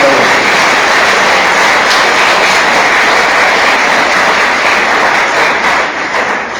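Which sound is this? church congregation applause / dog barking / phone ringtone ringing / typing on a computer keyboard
church congregation applause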